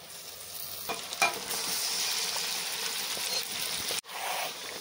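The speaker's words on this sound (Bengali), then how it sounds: "এবার দিয়ে দিচ্ছি ম্যারিনেট করে রাখা মাংসগুলো" Marinated mutton goes into a pan of fried onions for Kolkata-style biryani, setting off a loud, steady sizzle with a few scraping stirs and clanks; the frying briefly cuts out, then resumes.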